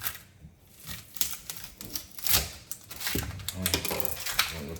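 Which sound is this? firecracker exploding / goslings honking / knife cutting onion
knife cutting onion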